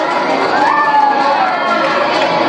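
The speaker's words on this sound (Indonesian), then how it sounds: "Yeay, tepuk tangan." A crowd of parents and kindergarten children at a school performance cheers and shouts in a dense, bright wash of voices, loud and continuous for a few seconds.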